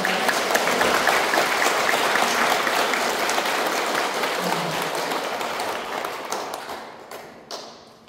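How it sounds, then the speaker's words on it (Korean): A crowd at a Won Buddhist temple service applauds loudly and steadily for several seconds, then the clapping thins out and fades toward the end. "힘찬 박수 부탁드립니다."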